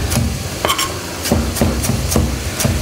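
A knife thinly slicing carrots into rounds on a cutting board, sharp evenly spaced chops about every quarter second over a faint kitchen background, close and crisp with no talking.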